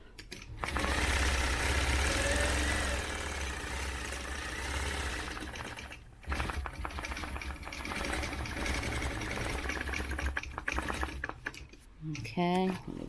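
A sewing machine stitching a quilt guided by a ruler, a fast steady whirring rattle close by in long runs with short pauses, ending with a few lighter clicks and a brief voice.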